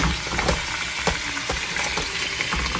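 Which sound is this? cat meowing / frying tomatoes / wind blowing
frying tomatoes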